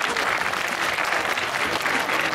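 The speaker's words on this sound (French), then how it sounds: "Et on peut l'applaudir, Babyface." A crowd at a tournament event claps steadily and evenly for the contestant Babyface, a dense wash of applause with no voices on top.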